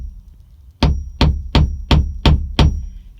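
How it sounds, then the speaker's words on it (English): Six sharp metallic hammer taps on a van roof, dimpling the metal so a drill bit can start without wandering, struck at a steady, even pace, close and loud with brief ringing after each hit. "You're tapping a hole to start the drill bit?"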